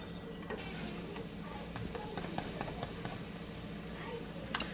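A grilled cheese sandwich frying in a pan gives a quiet, steady sizzle with faint ticks and light pops scattered throughout.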